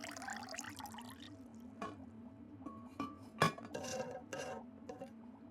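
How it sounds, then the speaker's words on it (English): Water is poured into a row of containers of soil, with clinks and knocks of the containers and lids, a few louder clatters, and a low steady hum underneath. "Now we'll add about the same amount of water to each container and put on the lid."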